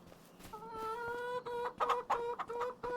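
Chickens in the farming game Farming Simulator 25 on the Zielonka map, clucking in short repeated calls, close and fairly quiet, with no talking.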